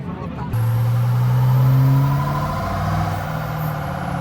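A Duramax diesel truck roars on a dyno at a truck festival, a loud sustained engine drone that rises, holds and slowly eases off, with crowd noise around it.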